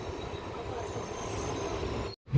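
A train pulls out of Gulma station toward Siliguri Junction, giving a steady close rumble and rolling noise that cuts off abruptly near the end.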